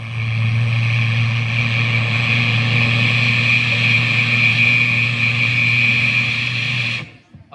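A voice imitates a rocket launching into the sky, a loud, steady roaring rush held for about seven seconds before cutting off abruptly.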